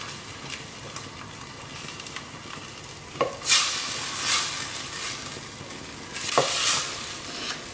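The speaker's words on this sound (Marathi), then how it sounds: "आमी तेलान सवसाया एटलीस्ट फॉर 3 मिनिट्स" Something is sautéed in oil in a pan: a soft, continuous sizzle with faint stirring scrapes and a couple of louder spatula strokes, close by and with no talking.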